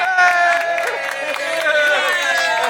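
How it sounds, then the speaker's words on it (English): Theme-park audience applauding and cheering after a Jungle Cruise boat ride, a steady crowd wash of clapping mixed with babble and some tonal music or ride sound throughout. "I love the pity applause. Oh, and a standing ovation."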